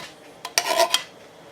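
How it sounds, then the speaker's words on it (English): Metal utensil scrapes across an iron skillet in a few quick, close strokes with clanks against the pan, alone and without talk. "so you want to scrape it out pretty well"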